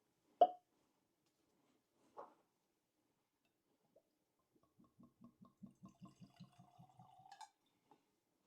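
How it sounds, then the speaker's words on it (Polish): Laphroaig 15 whisky poured from a freshly opened bottle into glasses: a couple of sharp clinks, then a quiet run of rapid glugging plops rising in pitch as the glass fills, close and alone. "Pozwolę sobie nalać już tej whisky do kieliszków."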